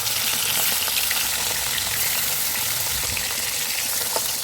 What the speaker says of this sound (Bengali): ইতি দিয়া দিনও তেল খান আর মাখিয়া রাখা মাছলা দিয়া দিনও একে একে কড়াইটা